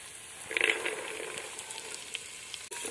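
Green peas tumble into a hot pan of oil for masale bhat and set off a steady, fairly quiet frying sizzle. There is a brief burst as they land, then an even crackle, and no one speaks.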